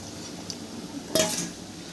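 A utensil clinks once against a cooking pot of leafy greens and nearly boiled potatoes, a short bright metallic knock near the end over a faint quiet background.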